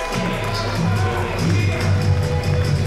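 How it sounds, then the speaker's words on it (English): A crowd at a Georgia boxing championship event cheers and roars steadily throughout, a dense, loud wash of voices with no single clear speaker. "The crowd loves it."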